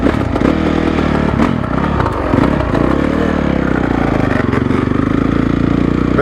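A 2012 Honda CRF450 dirt bike engine runs already warmed up, a loud, close, rapid four-stroke thrum with throttle blips and mechanical clatter, continuous throughout.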